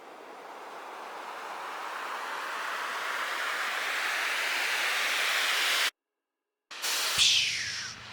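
Filtered noise sweep in a melodic house production rises steadily in brightness and volume over several seconds, cuts to silence, then returns as a short airy spray-like burst with a low tone underneath.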